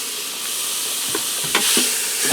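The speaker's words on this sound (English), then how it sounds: "I'm going to break this up and brown it for a little while" Ground beef browns on the saute setting of an Instant Pot, giving a steady, loud sizzle and hiss with a few scraping stir strokes as the meat is broken up. No one talks.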